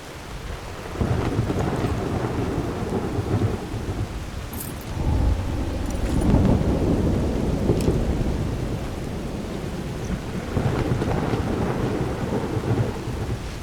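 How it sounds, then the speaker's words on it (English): In the video game Skyrim, steady heavy rain falls while deep rolling thunder swells and fades several times, loud and enveloping. "Let me know if the thunder sounds are too loud for you."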